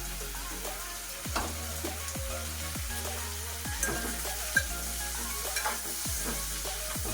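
Onions and green chillies frying in a pan, a continuous sizzle with regular stirring scrapes and clatters every second or so, close by and fairly quiet, no talk.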